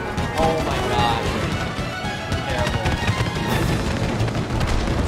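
Bursts of gunfire and explosive booms in the It Takes Two video game play continuously, loud and dense, mixed with game noise and excited voices.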